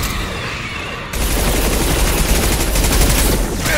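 Loud impact-shot gunfire in Mass Effect 2, a dense continuous burst of shots that kicks in abruptly after a quieter second and holds steady close up.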